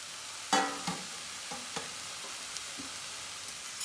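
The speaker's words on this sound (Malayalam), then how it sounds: "എന്നിട്ട് കരിഞ്ഞ് പോവാതെ ഇങ്ങനെ ഇളക്കി എടുക്കാം" Anchila thoran, five kinds of leaves, sizzles steadily in a pan while a spoon scrapes and stirs in a few sharp knocks over the constant hiss.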